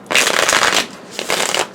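Two quick bursts of riffled tarot card shuffling, crisp and close, the first longer than the second, with a short pause between.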